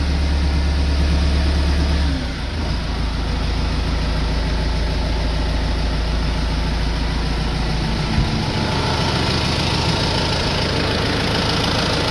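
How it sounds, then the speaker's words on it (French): A Case IH CS 94 tractor engine idles steadily and close by after an exhaust repair, a loud low chugging that shifts slightly in tone partway through, with no voices over it. "il a récupéré son bruit de petit tracteur"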